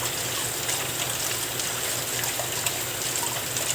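Water runs steadily over tanigue fish in a strainer during rinsing for kinilaw, a continuous close gushing splash like a running tap, with no talk.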